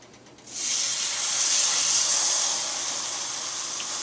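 A grilled cheese sandwich with pulled pork hits a hot frying pan and bursts into a loud, steady hiss that holds near and even for several seconds.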